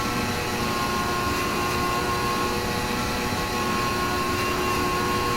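A Formula One car engine screams in 5th gear in an F1 video game, a sustained high, droning whine that holds steady throughout without speech.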